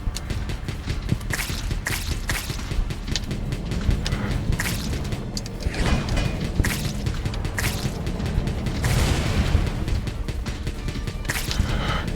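Rapid machine gun fire in the video game Wall World, a dense continuous rattle of shots with scattered thumps and crashes running throughout at steady loudness, no talking.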